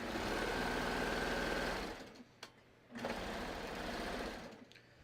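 A serger chains off the end of a hiking belt with a loud, fast, steady whir that stops, gives a short click, then runs briefly again before fading.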